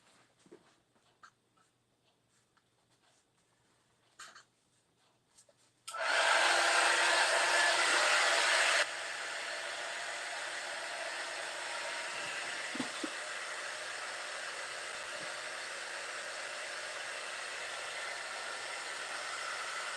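A hair dryer drying paint blasts loudly and steadily for a few seconds, then continues at a lower, constant roar after faint handling sounds.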